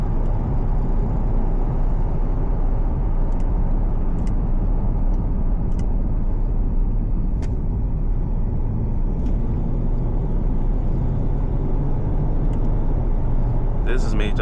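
Jaguar XF X250 3.0 diesel engine accelerating at part throttle, a steady low rumble heard from inside the car, with faint clicks and someone talking over it.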